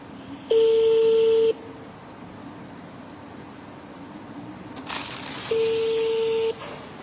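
A telephone call is placed and two long, steady electronic tones sound about four seconds apart, each lasting roughly a second, over a low background hiss.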